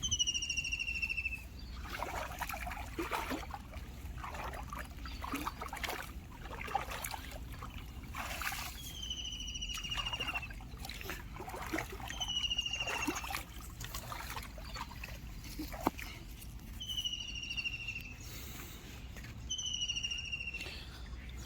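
Irrigation water flows through a channel into a farm field with a soft, continuous trickle. Birds chirp in repeated short calls, and insects buzz faintly around it outdoors.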